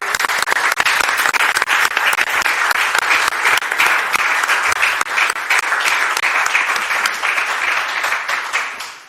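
Sustained audience applause fills a session of the Navarra Parliament, a dense, steady roar of many hands clapping at full strength for about nine seconds before tapering slightly at the end, with no talking over it.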